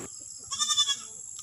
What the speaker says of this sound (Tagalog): Ito naman kambing na eh, malapit sa video